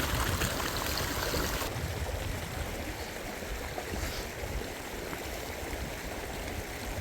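A constant rushing of falling water from Sahasradhara waterfall in Uttarakhand, steady and moderately distant, with no voices.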